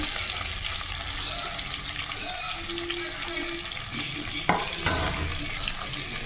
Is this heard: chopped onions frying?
yes